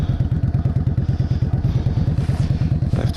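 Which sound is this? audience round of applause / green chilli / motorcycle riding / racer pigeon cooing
motorcycle riding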